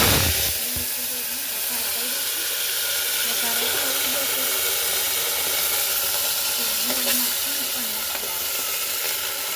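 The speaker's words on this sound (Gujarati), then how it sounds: "હવે આપણે વઘાર દઈશું" Dried chillies, mustard seeds and cumin temper in hot oil with a continuous loud sizzle and hiss, steady throughout, while a voice talks faintly over it.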